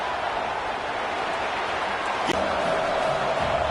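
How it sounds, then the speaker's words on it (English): Crowd at a Memphis vs BYU college football game in a stadium, a steady dense roar of cheering and noise filling the whole stretch, loud and continuous with a brief sharp thud partway through. "It's early, but this crowd is fired up. Listen to this noise here."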